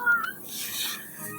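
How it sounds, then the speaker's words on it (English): A house cat gives a short, creaky meow that trails into a yawn, faint and close, lasting just over a second against a quiet indoor background. "My cat just yawned, meowed."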